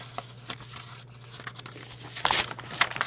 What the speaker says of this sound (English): let me just turn this paper over real quick.